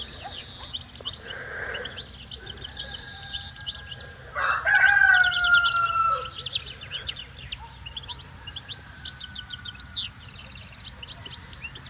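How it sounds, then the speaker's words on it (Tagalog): A rooster crows in a garden, a loud drawn-out call in the middle of a quiet outdoor scene, with smaller birds chirping faintly before and after. "Ang saya ng ibon."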